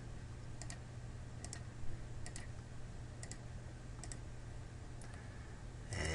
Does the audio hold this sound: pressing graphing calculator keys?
yes